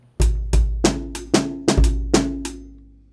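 The second part of a hip hop drum beat plays alone: a short phrase of punchy kicks, snare cracks and lighter ghost hits in a loose, swinging rhythm.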